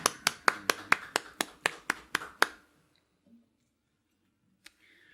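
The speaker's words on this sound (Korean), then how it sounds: "자, 우리 하나님께 영광의 박수 올리겠습니다." About ten sharp, evenly spaced hand claps ring out in a church, close and distinct, then stop abruptly, leaving near silence with a faint click.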